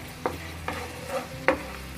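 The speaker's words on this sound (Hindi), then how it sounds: "और सब सॉसों को अच्छे से मिक्स कर लेंगे और 1 मिनट के लिए अच्छे से फ्राई कर लेंगे" Soya chunks tossed with sauces in a hot pan give a few quick stirring scrapes over a low, steady frying sizzle.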